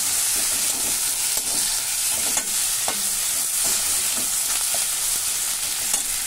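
Potatoes frying with cashews, raisins and ginger-garlic paste sizzle steadily in a pan, with repeated close scrapes and knocks of stirring throughout.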